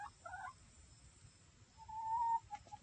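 Backyard hens, including an Easter Egger and a silver-laced Wyandotte, making a few soft, faint clucks and a drawn-out quiet murmur, close by in an otherwise hushed setting.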